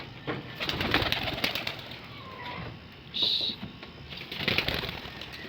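Pet pigeons in a loft cooing, with bursts of wing flapping and fluttering through the clip, close by, while a person talks.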